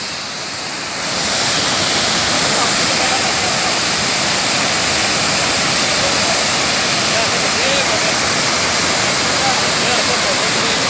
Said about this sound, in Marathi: अतिशय चांगल्या स्वरूपात असाची असा धरण धबधबा नयनरम्य धबधबा तयार झालेला आहे